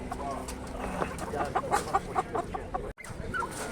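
Several chickens cluck and squawk close by in short, overlapping calls at an animal market in Lublin, Poland, with a low murmur of talk in the background.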